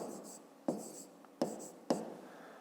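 Pen or chalk scratches out a fifth-grade math solution in short strokes, with three sharp taps marking new strokes over a steady scratchy rasp, close and alone.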